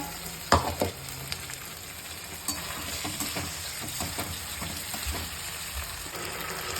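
Chicken fries in a pan with soy sauce and black pepper, giving a continuous sizzling hiss with an occasional spatula scrape, loudest with a sharp clink near the start.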